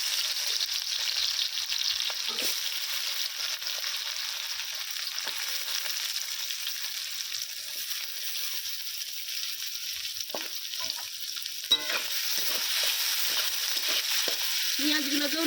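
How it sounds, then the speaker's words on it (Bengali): Chopped onions frying in mustard oil in a wok, a steady bright sizzle running throughout, with scattered stirring scrapes and clicks growing busier toward the end. "কড়ার মধ্যে আবারও দিয়ে দিচ্ছি সর্ষের তেল দিয়ে দিচ্ছি কেটে রাখা পেঁয়াজ"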